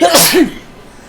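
One loud, close sneeze from a player at a tabletop role-playing game session. It bursts out in two quick parts and is followed by quiet, with a brief spoken word.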